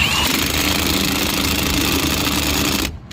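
A Milwaukee cordless impact wrench on setting 2 with a 21mm socket drives Toyota Tacoma lug nuts, giving a loud, steady motorized buzz that cuts off abruptly near the end.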